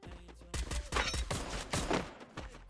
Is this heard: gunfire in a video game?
yes